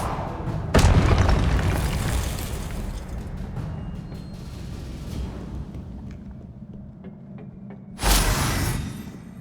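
Fire spells burst in Hogwarts Legacy: a loud, booming explosion hits early and rumbles away, then a second heavy blast erupts near the end, with faint crackles between them.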